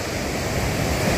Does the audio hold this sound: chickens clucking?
no